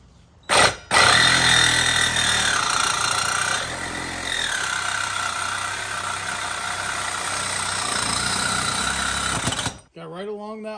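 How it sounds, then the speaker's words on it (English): A tool cuts the catalytic converter off the exhaust of a CFMOTO CForce 1000 ATV along the weld, producing a loud, steady grinding whine that holds for several seconds before stopping abruptly, followed by a brief voice. "we're gonna cut this converter off right here because I have an idea for here"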